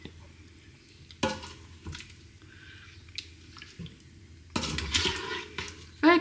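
Prawn curry is ladled from a Ninja Foodi pot into a bowl, with scattered wet squelches, soft spoon scrapes and clinks spread out over a few seconds, close and fairly quiet.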